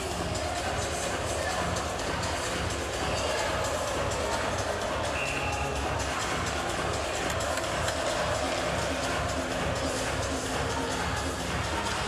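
A large arena crowd at a 2024 IIHF World Championship ice hockey game between Poland and USA roars in a dense, steady wash of cheering and chatter throughout, with a commentator's voice faintly underneath.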